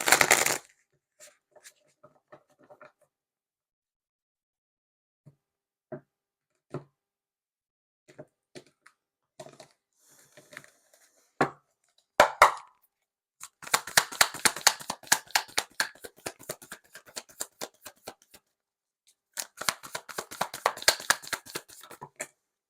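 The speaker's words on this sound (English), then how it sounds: "I've been told one more shuffle and then we'll cut up the deck" A tarot card deck is shuffled in bursts: scattered soft taps and short riffles at first, then two long runs of rapid, close-up flapping card riffles, with quiet gaps between.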